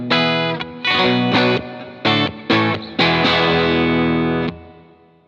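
Distorted electric guitar chords strike several times, rhythmic and loud, ending on a long sustained chord that rings out in wide reverb.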